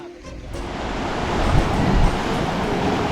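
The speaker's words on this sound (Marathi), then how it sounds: "कुणकेश्वरचा हा किनारा आहे" Sea waves at Kunkeshwar beach on the Konkan coast: a steady, fairly loud broadband wash of surf that swells and recedes, with wind noise across the microphone and no voices.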